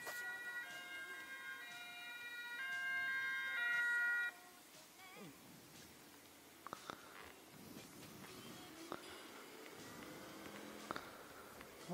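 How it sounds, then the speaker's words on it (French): A SAMU ambulance siren wails for a few seconds on a French road near Art-sur-Moselle, heard from a motorcycle, then cuts off, leaving a low engine hum and scattered rustles. "Ah, ambulance. On va laisser passer les ambulances."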